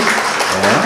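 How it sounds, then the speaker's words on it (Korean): A church congregation claps together in a brief, dense burst of steady applause, loud and close, with a voice speaking over it. "그냥 박수로 그냥 격려해 주십시오"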